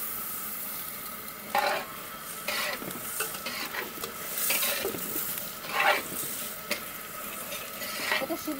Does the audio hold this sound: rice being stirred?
yes